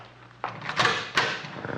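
A door opens indoors in a small warm room, two or three soft knocking and sliding clunks in close succession, heard near and moderately loud with a faint room hum underneath.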